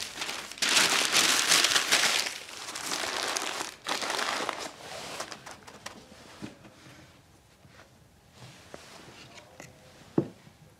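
Newspaper being crumpled and stuffed into clay to give a sculpture its structure, a loud, dense, continuous crinkling through the first half that thins into sparse rustles and a final sharp crackle.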